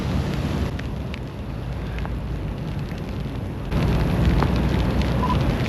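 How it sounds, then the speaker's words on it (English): Rain falls steadily on a parking lot as a dense, broadband hiss that never lets up. It grows louder partway through, with scattered sharper drips and patters over the wash. "Oh man, tough with this rain."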